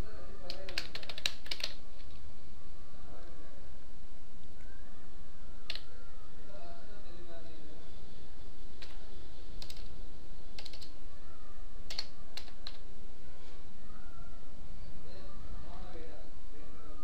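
An address is typed on a computer keyboard, heard as scattered bursts of light key clicks with pauses between them, under a steady background hum while a person speaks.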